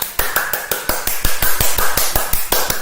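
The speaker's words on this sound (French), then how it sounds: "On m'applaudit moi-même." A single person claps for himself, around a dozen sharp, evenly spaced hand claps close to the listener, standing alone with no talk.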